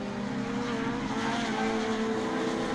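Honda race cars lap the Donington circuit with a continuous high engine drone that holds steady and loud throughout, with no break in the sound.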